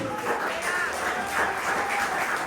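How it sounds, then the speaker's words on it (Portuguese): Church congregation applauding for Jesus during a service, a steady wash of clapping with a faint voice or tones beneath, moderately loud and continuous through the moment. "Quem entendeu, dê um aplauso bem forte para Jesus"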